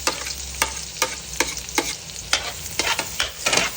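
Garlic frying in a hot pan, a continuous crackling sizzle broken by regular scraping strokes as it is stirred, close and clear with no voices.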